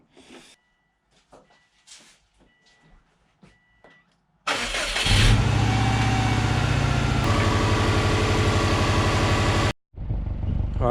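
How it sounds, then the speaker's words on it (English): A Subaru WRX hybrid build with fresh coolant fires up after some quiet clicks and fiddling, then settles into a loud, steady idle lasting several seconds before cutting briefly and catching again. "the WRX. It's running and it's smooth."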